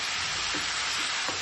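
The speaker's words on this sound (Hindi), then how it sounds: "अच्छे से इसको सौते करेंगे।" Chicken filling sautéed with soy sauce in a pan gives a steady close hiss of frying, with a few soft stirring scrapes in between.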